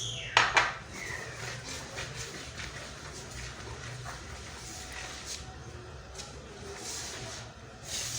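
Bread dough of flour, margarine and warm water being mixed in a bowl. A couple of sharp utensil clinks open the sound, followed by soft, continuous scraping and stirring at close range.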